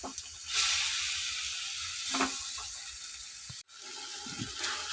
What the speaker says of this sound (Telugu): ఈ వడగంట కోసం అనగానే టమాటా వేసేద్దాం. ఇట్లా మగ్గనీయాలండి